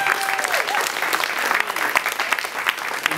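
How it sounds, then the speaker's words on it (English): An audience at a college finale performance gives a full round of applause to the student performers, dense continuous clapping with a few whoops and voices mixed in. "another round of applause to my students"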